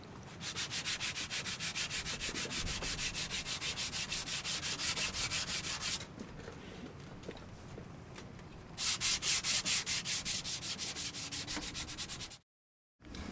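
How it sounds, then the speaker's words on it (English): Rhythmic, rasping strokes of sandpaper against a wooden boat tiller, fast and steady, pausing briefly midway before resuming with strong, even passes. "I did my bit by finishing the sanding"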